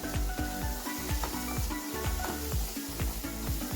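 Ginger garlic paste, green chilies and curry leaves sizzle loudly in a hot pan, a steady dense crackle and hiss with a repeating scrape-like pulse, close and continuous throughout.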